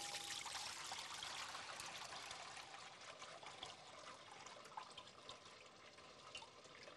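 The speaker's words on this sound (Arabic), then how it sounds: "انا عايزه اصفي دلوقتي البطاطس" Water draining off cut potatoes in a kitchen, a continuous bright hissing pour and trickle that stays steady for several seconds and eases slightly toward the end, fairly faint, with no speech.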